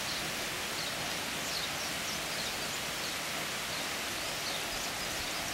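Steady June rainstorm downpour, a dense even hiss of falling rain that stays constant and close throughout with no voices.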